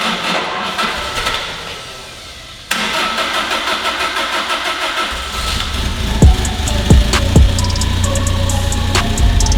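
Lifted minivan engine cranks and catches after a pause, then settles into a steady, loud close-up idle with a few sharp clicks and knocks over the running engine.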